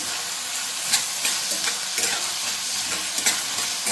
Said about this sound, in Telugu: ఇప్పుడు మనం మీడియం సైజులో పెట్టుకొని ఉల్లిపాయలను ఒక్కసారి కలిపేసుకుందాం